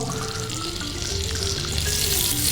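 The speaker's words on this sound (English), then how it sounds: "we're gonna fry off the balsamic" Balsamic vinegar hitting hot tomatoes in a pan, bursting into a loud, steady hissing sizzle that builds slightly over a couple of seconds, close up with no speech.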